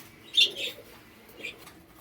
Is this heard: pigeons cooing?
yes